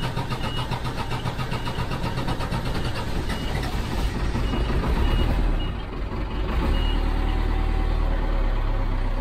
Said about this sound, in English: The bread truck, it runs!